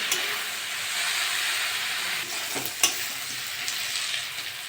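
Yardlong beans and potatoes fry in a pan, giving a steady close sizzle throughout with a few sharper crackles and stirring scrapes partway through, and no talking.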